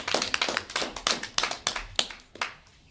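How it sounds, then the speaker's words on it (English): A small audience claps for Levi after a question session, a thin scatter of hand claps in an uneven rhythm that fades out by the end, close and fairly quiet. "let's give him a round of applause."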